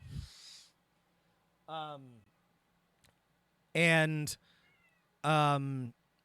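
A cat meows several times, each call short and close and separated by quiet pauses, with a soft click in between.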